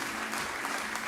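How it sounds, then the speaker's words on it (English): A short, steady burst of applause, an even wash of many clapping hands at moderate loudness with no talk over it. "A round of applause."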